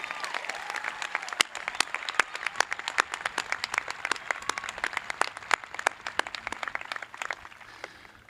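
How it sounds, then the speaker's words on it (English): An audience at a 2020 high school graduation ceremony applauds with distinct, crisp individual claps ringing out over a soft crowd wash, fairly distant and quiet, continuing steadily before tapering off at the end. "this group deserves a round of applause for how patient they have been"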